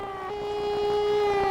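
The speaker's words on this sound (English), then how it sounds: "people scurried for cover as air raid sirens wailed and the death toll mounted" Air raid siren wailing over Zagreb during the 1991 fighting in Croatia, a single steady, slowly rising tone with a faint rumble beneath, sounding alone and fairly loud.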